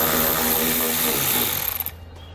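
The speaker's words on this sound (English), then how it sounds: "So we'll grab a 10mm socket and we can pull it out." A 10mm socket on a power tool spins out a bolt inside the wheel well of a 2013 Jeep Grand Cherokee, a close, steady whirring drive that cuts off near the end.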